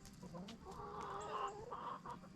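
Chickens cluck softly nearby in a steady, murmuring chatter in a permaculture food forest, with a few higher calls breaking through the low background.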